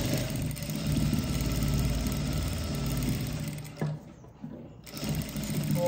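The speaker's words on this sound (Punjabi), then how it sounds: "ਹੁਣ ਆਪਾਂ ਸਿਲਾਈ ਕਰ" Sewing machine stitching piping onto a round neckline in a boutique, a steady close motor whir with a brief pause near the end before the stitching picks up again.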